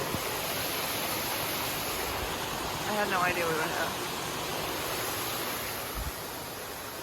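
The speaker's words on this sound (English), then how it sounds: "we're actually parked next to a cute little waterfall" Small waterfall splashing beside a campsite in the rain, a steady broadband rush like heavy rainfall running the whole time, with a person speaking briefly over it.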